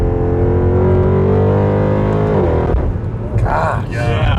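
Mercedes C63 AMG engine pulling hard, a loud close harmonic roar rising in pitch and then dropping sharply at a quick gearshift before climbing again, with people talking excitedly over it.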